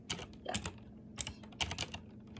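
Bursts of keys clacking on a computer keyboard, in short irregular clusters of rapid taps with brief pauses, close and clear with no talk.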